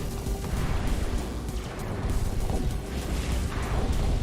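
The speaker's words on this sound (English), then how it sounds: "Oh no, ammo explosion" An ammo explosion from the mech combat game MetalMercs rumbles as a dense, sustained roar of heavy blasts and crackling debris that stays at a constant level for several seconds.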